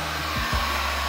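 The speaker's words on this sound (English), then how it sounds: "you always want to keep the heat gun moving" Heat gun blowing steadily while shrinking window tint film on a Corvette C8, a loud continuous whooshing hum with a slight wobble midway, close and alone.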